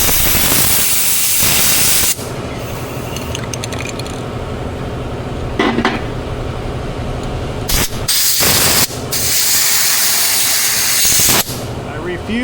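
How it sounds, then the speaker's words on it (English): A Rust-Oleum spray paint can with a gummed-up, clogged nozzle hisses loudly up close, its spray sputtering and cutting out in uneven bursts with short breaks between. "Something in the nozzle is disrupting my spray."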